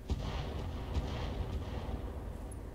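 Guided weapons fire in the BattleTech video game with the RogueTech mod: a dense, continuous rumble of launches and distant impacts rolls on for a few seconds, loud and low with no pauses.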